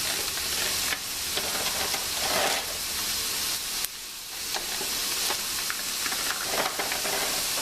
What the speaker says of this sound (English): got boiling salted water with about a tablespoon of oil